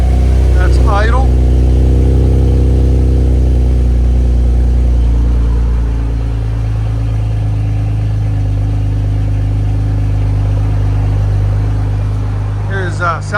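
A 2019 BMW M2 Competition's 3.0-litre twin-turbo inline-six idles steadily just after a cold start with the exhaust valve closed, a loud, even rumble with brief voices at the start and end.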